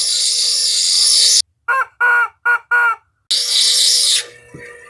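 A chicken gives four short, clipped clucks in a quick rhythm, close and clear. A steady loud whirring machine noise stops just before the clucks and starts again right after them.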